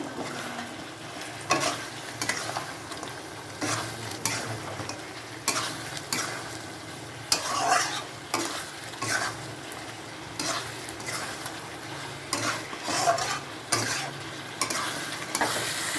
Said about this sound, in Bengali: আর একটু মিট মশলা, চিকেন মশলা দিয়ে কষাচ্ছি আমি